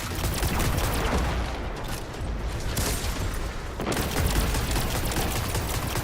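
Sustained full-auto weapon fire in a Destiny-style shooter, a dense continuous burst of rapid shots with a brief dip mid-way before the firing resumes loudly until the end.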